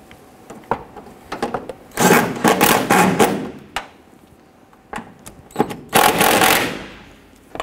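A pneumatic impact wrench tightens wheel lug nuts on a 1997-2006 Jeep Wrangler, firing in several loud, rapid hammering bursts of differing lengths with short pauses between them, close by and with no talking.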